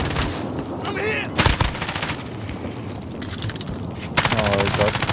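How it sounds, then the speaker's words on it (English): Rapid video-game gunfire rattles in loud automatic bursts with heavy battlefield noise, sharp louder volleys near the middle and end, and a player's voice shouting over the shooting. "Taking direct fire! Under hostile fire!"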